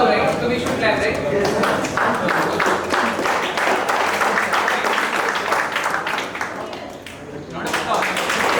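Applause from an audience of students at an induction ceremony, scattered claps that build into a steady round, with voices talking over and between the clapping and a brief dip near the end.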